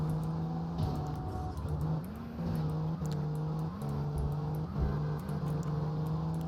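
Car engine in GTA Vice City, a steady droning hum with repeated rising shifts in pitch as the car accelerates and changes gear, holding close and constant throughout.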